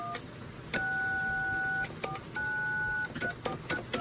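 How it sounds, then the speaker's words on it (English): Telephone dialing tones on a recorded prank call to a towing company: several steady DTMF beeps of varying length, separated by short clicks and gaps, fairly quiet over a hissy line. "Alec Baldwin and I decided to call a towing company"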